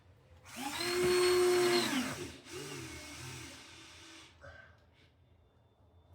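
A power drill drives screws into a box sash window frame during a rebuild, with one long whirring burst followed by a shorter one, close and loud, with brief speech as it winds down.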